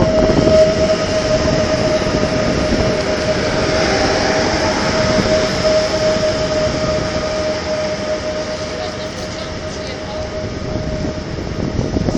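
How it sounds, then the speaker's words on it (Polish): An Intercity train rumbles into a station with a broad, steady roar and a faint high whine, sustained throughout as it pulls alongside. "Intercity przyjechał"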